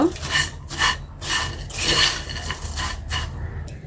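Semai is stirred with ghee and sugar in a metal pot, a spoon scraping and clinking against the pot in repeated rough strokes, close and fairly loud with short pauses between passes.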